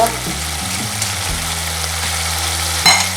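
Chicken breasts fry in butter in a pan, giving a close, steady sizzle, with a low hum underneath and a few small clatters.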